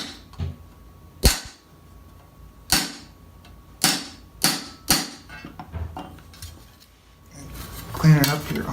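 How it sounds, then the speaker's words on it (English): A metal ankle plate for armor greaves being chiseled into a crease over soft wood: a series of sharp, ringing hammer strikes spaced unevenly, each with a quick metallic decay, and some handling noise near the end. "Just going to chisel it on soft wood here."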